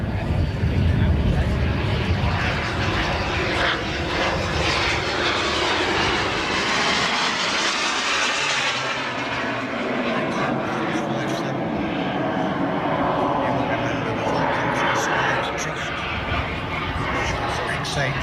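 Vulcan bomber flying past at an airshow, a loud, broad jet roar swelling and fading over the whole stretch while a commentator talks over it.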